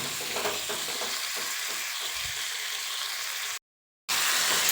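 Tomato frying in a pan for a couple of minutes: a continuous close sizzle with faint low stirring movements early on, then a brief total dropout before the sizzle resumes.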